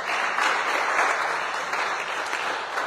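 A church congregation applauds continuously, a dense, steady burst of clapping that stays loud throughout with no talk over it.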